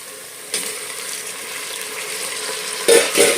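Loud, steady sizzle of onions and ginger-garlic paste frying in a pan as tomatoes go in, with a sharp burst of hissing and stirring scrapes near the end.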